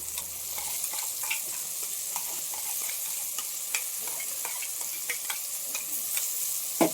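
Ground masala sizzling with tomatoes in a pan, the sound of cooking for a mushroom biryani: a steady low fry with scattered small pops and crackles throughout, fairly quiet and close, no talking.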